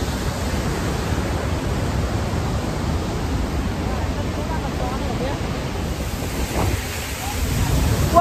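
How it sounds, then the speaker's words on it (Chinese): Rhine Falls waterfall roaring as a steady, dense broadband rush throughout, close and loud, with faint voices partly buried under the constant churn of water. "我背后就是莱茵瀑布"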